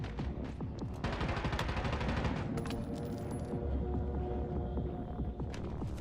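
Gunfire in a shooter video game: dense rapid bursts of shots rattle continuously over a throbbing low hum, with metallic clinks and a brief high electronic tone partway through.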